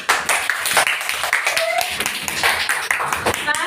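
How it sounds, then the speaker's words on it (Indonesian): Clapping from a classroom audience of university students during a teaching-practice session: a loose patter of hand claps with sharp individual hits, mixed with chatter and voices throughout. "Mari kita tepuk tangan."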